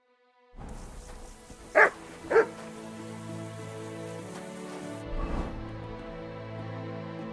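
Two sharp, loud dog barks in Kingdom Come: Deliverance II, spaced about half a second apart over a steady ambient game backdrop, followed by a fainter thud later.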